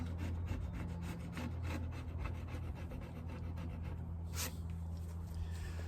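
Steady rasping scrape of varnish being stripped from the wooden parts of a Singer treadle sewing machine, continuous close strokes with a loud hum in the background and no talk.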